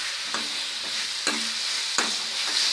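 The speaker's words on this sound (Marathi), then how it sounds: "आता मी बदामाचे काप घालते थोडे" Almond slivers go into carrot halwa cooking in ghee with fried cashews and raisins, under a steady close sizzle broken by a few soft taps as the pan is stirred.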